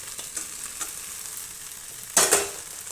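Dried fish (karuvaadu) frying in a thick onion-tomato gravy base, with a steady soft sizzle and a few scrapes of stirring before a louder burst of sizzling and stirring near the end.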